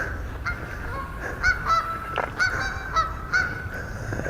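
Geese honk nearby in a short series of loud, nasal calls, several spaced bursts over a quiet outdoor background with no talking.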